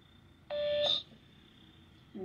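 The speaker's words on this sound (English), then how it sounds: "There was like a beep at the end." A single sharp electronic beep rings out for about half a second, clear and steady, followed by a brief higher tone, then quiet background hiss.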